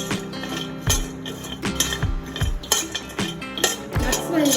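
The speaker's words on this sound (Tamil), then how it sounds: "அடுத்து முந்திரி பருப்பும் பாதாமும் எடுத்து வறுத்துக்கிறேன்." Cashews and almonds are dry roasted in a pan, the nuts rattling and a utensil repeatedly scraping and knocking against the metal in an irregular rhythm, close and fairly loud.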